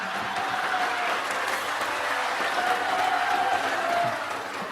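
Audience applause during a sermon-style religious lecture, a steady wash of clapping from a crowd lasting throughout at moderate level with faint voices mixed in.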